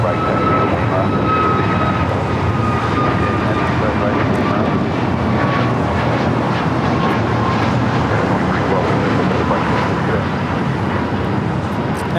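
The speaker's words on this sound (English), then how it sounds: "Now taking off is American Airlines 2312, taking off to Phoenix on the MAX 8." American Airlines Boeing 737 MAX 8 departing LAX for Phoenix, a loud sustained jet engine roar with a steady whine, heard at a distance with traffic and a voice talking over it.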